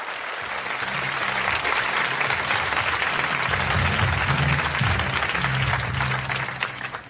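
Sustained applause from a conference audience in Antalya greeting a speaker, dense steady clapping that swells and holds for several seconds before tapering off, with no talk over it.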